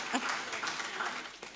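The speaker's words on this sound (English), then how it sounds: "You can definitely clap more than that" Scattered audience clapping at a gender impact investment summit, a moderate, steady patter of applause lasting under two seconds with a brief voice surfacing partway through.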